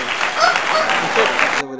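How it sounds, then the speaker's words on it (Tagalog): A small group claps briefly and somewhat unevenly, close by, with voices overlapping the applause before it stops abruptly. "Palakpak pa rin, palakpak."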